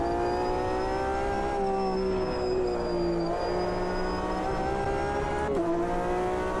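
A Porsche 911 GT race car in a racing sim game, its engine holding a steady loud whining drone with small pitch dips as it shifts and eases through corners, constant and close.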